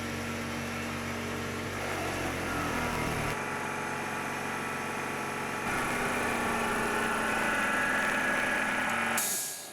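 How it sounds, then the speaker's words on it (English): An electric air compressor runs beside a gas kiln during a pottery firing, a steady loud motor drone with a low hum and broadband hiss that holds constant for several seconds before cutting off. "I turn on the air compressor. I apologise for the noise,"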